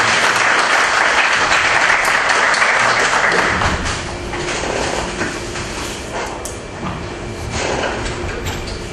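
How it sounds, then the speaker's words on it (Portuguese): Audience applause at an event at a federal institute of education, science and technology: loud, dense clapping that fills the first few seconds, then thins and fades to scattered claps and room noise. "Uma salva de palmas, por favor."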